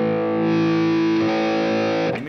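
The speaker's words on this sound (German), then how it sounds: "Dann habe ich hier einen zusätzlichen Verzerrboost." Electric guitar with an extra distortion boost on a Fractal Audio rig, a loud sustained overdriven chord that holds steady and then breaks into a brief scrape at the end.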